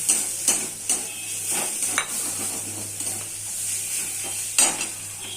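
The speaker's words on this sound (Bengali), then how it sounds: "আবারও ভালো করে নাড়াচাড়া করে নেব" Bitter gourd curry stirred in a pan, a spoon scraping and clinking against the metal in irregular strokes over a soft sizzle, close and clear with no talking.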